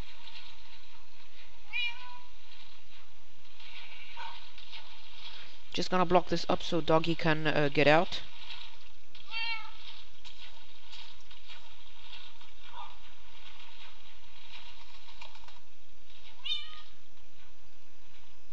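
Minecraft cats meowing in a game world, a dense burst of several meows lasting about two seconds, with scattered fainter in-game sounds before and after and someone talking over parts of it.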